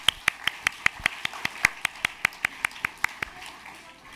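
A congregation at a Taiwanese Presbyterian church service claps in an even, steady rhythm of about twenty crisp claps, close and moderately loud, fading slightly at the end.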